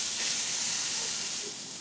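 Steak sears in a hot frying pan, giving a steady, bright sizzling hiss that is close and continuous, fading slightly toward the end.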